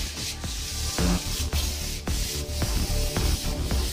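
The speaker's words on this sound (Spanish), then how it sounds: "Mira cómo le da la lija a Jefferson." Sandpaper scrubs a damp bedroom wall in loud, close, rhythmic strokes, about two per second, with short pauses between passes and no talking.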